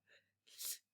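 A single human sneeze, close and quiet, with a short breathy intake followed by a sharp hissing burst, all alone in near silence.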